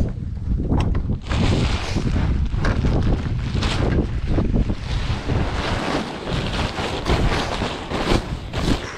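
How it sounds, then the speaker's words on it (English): Strong wind buffets the microphone continuously, with gusty rumbling roars and hissing rushes throughout, no voices heard. "Pretty windy."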